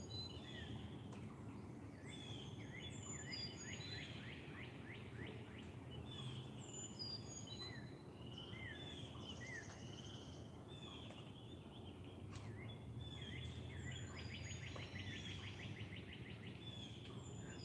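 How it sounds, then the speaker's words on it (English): A wild turkey chirps outdoors by a front porch, with repeated short high calls scattered through the clip over a steady low background of rural ambience and other birds, moderately distant. "Can y'all hear the turkey chirping?"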